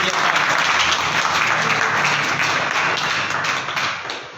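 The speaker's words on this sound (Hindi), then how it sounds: "विराट से तालियों से स्वागत करो भाई का।" Loud, steady applause fills the room for a welcome at a goldsmiths' association election gathering in Karnal, dense clapping that carries on without a break and eases off slightly at the end.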